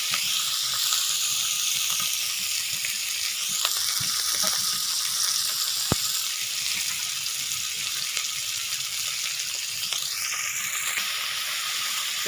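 Tomatoes and salt are stirred in a frying pan: a loud, continuous sizzle and hiss of hot oil, with occasional light scraping clicks from the stirring.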